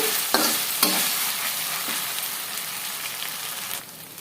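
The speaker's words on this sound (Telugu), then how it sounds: "ఇందులోకి రెండు టేబుల్ స్పూన్ల అల్లం వెల్లుల్లి పేస్ట్ వేసేసుకొని అల్లం వెల్లుల్లి పేస్ట్ పచ్చి స్మెల్ పోయేంత వరకు ఫ్రై చేసేసుకోవాలి" Two tablespoons of ginger garlic paste frying with onions in a pan give a steady, fairly loud sizzle. Sharp clinks from stirring cut through it early on, and the frying eases off at the end.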